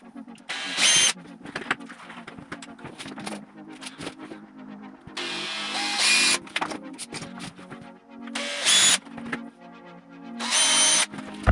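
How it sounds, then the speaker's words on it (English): A power drill bores into a Vauxhall Corsa C bumper to fit reversing sensors, four loud close bursts of whining drilling separated by quieter handling noises. "Let's just drill it."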